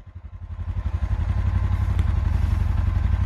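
An ATV engine pulses hard with a fast, throbbing rhythm as it rides through a sand pit, building in loudness and staying close and steady with no talk.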